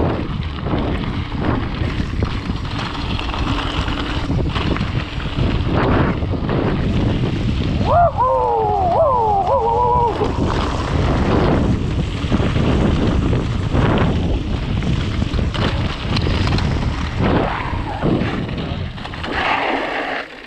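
Rushing wind noise buffets the microphone throughout a fast hardtail mountain bike descent, loud and steady, with a few brief tonal squeals in the middle.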